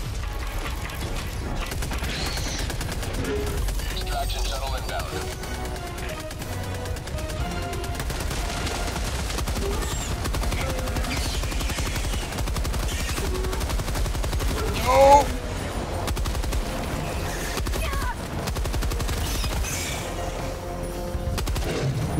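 In Helldivers 2, a deployed sentry turret rattles out sustained machine-gun fire amid mechanical clanks and whirs, a dense rolling barrage that runs for over twenty seconds.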